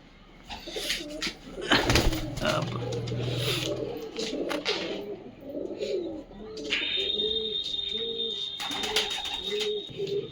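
Matraj pigeons at a home loft coo again and again, soft rolling calls repeating close by, with brief flutters, chirps and faint background noise mixed in.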